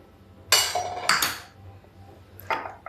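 Tempering poured into a cooking pot, then a lid set on top, producing three sharp metallic clinks spaced apart, close and fairly loud.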